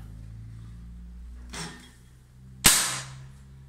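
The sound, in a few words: PCP air rifle M22 firing JSB 18 grain pellet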